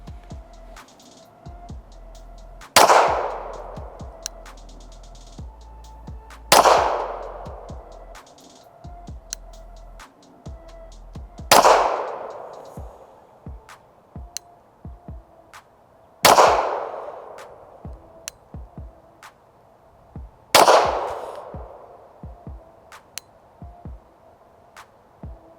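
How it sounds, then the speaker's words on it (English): Five sharp pistol shots from a PSA Dagger Compact firing 124-grain Pro Match ammunition at 10 yards, loud and close, spaced several seconds apart, each followed by a short decaying ring at an outdoor range. "We're gonna be shooting from 10 yards and the ammo we're using is Freedom Munitions Pro Match 124"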